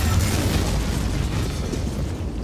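An explosion in the video game Dead Space Remake: a dense, loud, sustained roaring blast rumble that fills the whole stretch without letup.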